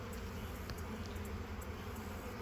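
A honey bee swarm flying around at a tree farm, a steady dense buzzing hum that fills the air continuously at moderate volume with no voices.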